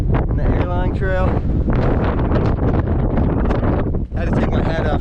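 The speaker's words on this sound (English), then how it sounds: "this wind keeps blowing it and the gusts come through" Strong gusty wind on a mountain summit in the White Mountains, roaring loudly and continuously into the microphone with buffeting surges and one brief dip near the end.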